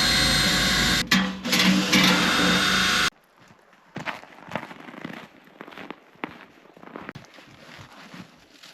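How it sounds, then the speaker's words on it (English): A small wood fire burning inside a smoker, with sparse, irregular crackles and pops that are faint and close, following a few seconds of louder rustling handling noise. "I'm gonna make a small fire in it and I'm gonna go ahead and smoke this beef heart."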